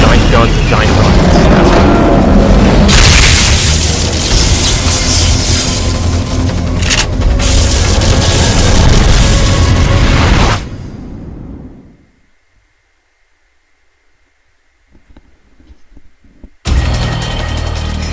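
Giant rockets exploding in the Pupa boss battle of Metal Gear Solid: Peace Walker: about ten seconds of loud, dense booming blasts and rumble, then a sudden drop to near silence before another loud burst cuts in.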